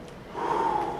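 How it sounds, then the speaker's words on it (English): Heavy, audible breathing during a vinyasa power yoga flow, a single long, close, rasping breath that swells and holds. "I'm breathing so loud"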